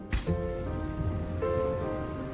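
Steady rain falling on the ground in the wild, a dense continuous patter that stays even and moderately loud throughout, with no voices.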